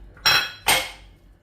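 Two sharp clinks of a utensil against a bowl while cake batter is mixed, close and fairly loud, each ringing briefly before fading, with no talking.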